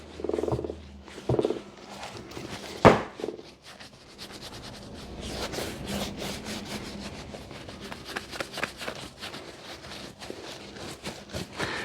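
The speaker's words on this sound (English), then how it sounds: "just rub it in, massage it into the leather" Leather conditioner is rubbed by hand into leather boots, making a steady, close, squeaky rubbing and scrubbing with a rhythmic friction texture and a few louder knocks near the start.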